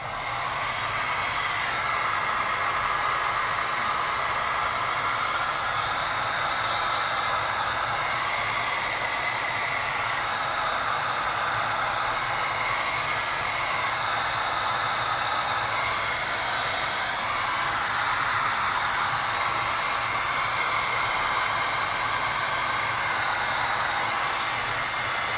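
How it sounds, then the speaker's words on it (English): A heat gun blows steadily to shrink heat-shrink tubing on a cable, giving a constant, close, loud whooshing hiss that holds nearly unchanged throughout, with no talk. "And then heat shrink this one."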